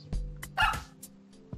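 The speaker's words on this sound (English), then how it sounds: "Okay, so the dog is undo." Undo dog sound effect from Super Mario Maker, a video game: a few short, crisp yips and barks, close and clear, with no talking.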